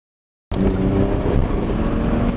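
A car engine revs hard during a double-clutch downshift into second gear before a bend. The loud, sustained roar starts abruptly after half a second of silence, with no talk over it.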